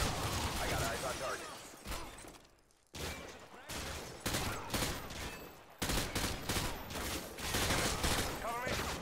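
Rapid bursts of gunfire rattle in Modern Warfare 2 combat, repeated volleys broken by short gaps, dense and fairly close, with a brief quieter pause partway through.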